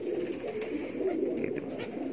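Jetmatic Gambir pigeons coo softly in a low, steady murmur, faint and close, with no other sounds over it.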